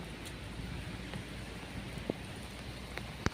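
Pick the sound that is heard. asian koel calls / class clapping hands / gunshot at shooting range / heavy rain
heavy rain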